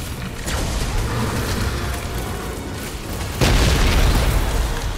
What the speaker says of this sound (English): Take heed of the explosives, Peter Quill!